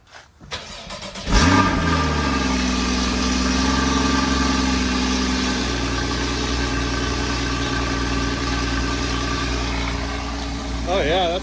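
A Porsche Cayman's engine starts with a short crank, then settles into a steady, close idle that continues alone for several seconds.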